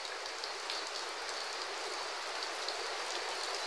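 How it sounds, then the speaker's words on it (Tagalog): Heavy rain pours down steadily during a typhoon, a dense, even hiss of drops with occasional louder patters, continuous and close with no voices. "Ayan, malakas na naman yung ulan."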